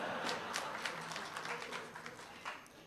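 An audience claps at a Hindi kavi sammelan poetry recital, a dense and steady patter of applause that sounds somewhat distant and fills the whole stretch.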